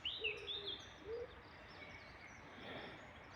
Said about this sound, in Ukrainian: співають пташки і кругом ліс